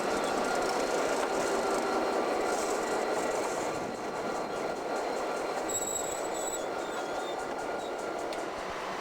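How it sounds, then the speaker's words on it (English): Passenger train rolling through northern Manitoba toward Churchill: a continuous loud rumble of wheels on track with rhythmic rattling, and a brief high wheel squeal or whine near the middle. "We're off again by train, this time to Churchill in northern Manitoba."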